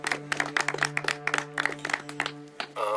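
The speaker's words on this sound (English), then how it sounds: "We can clap for him." A small group outdoors claps for a birthday, giving scattered, irregular hand claps under a steady low hum. The claps are moderately close, and a brief voice comes in at the end.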